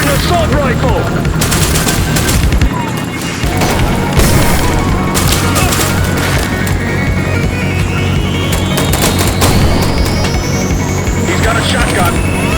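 Assault rifle fire in a video game comes as dense bursts of rapid shots and cracks, loud and continuous, mixed with explosions and shouting voices and an engine-like whine rising in pitch.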